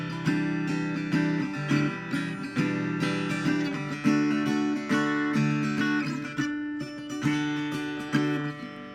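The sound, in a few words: guitar playing a song's chord part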